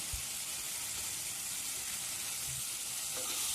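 Tomatoes and onions sauté in a pan for spicy kaara chutney, a soft, steady sizzle with faint stirring scrapes, quiet and unbroken.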